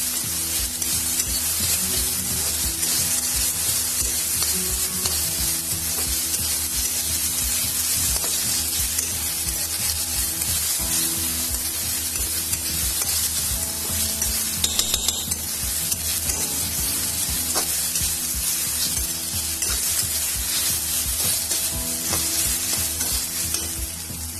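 Crushed ginger and garlic fry in a kadhai for an Assamese-style fish curry, a loud, continuous sizzle with steady stirring scrapes throughout and no voices.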